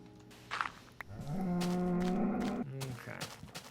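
A Minecraft cow lets out a single drawn-out moo, close and clear, followed by faint game sounds and no talk.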